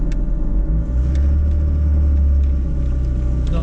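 Inside an MK1 VW Caddy on the road, a loud, steady low engine rumble drones throughout with slight rises in revs and faint rattles and clicks from the cabin.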